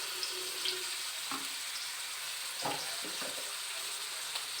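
Grated onion, carrot and beetroot frying in a pan, a steady close hiss of sizzling with scattered soft scrapes and stirring knocks, no talking.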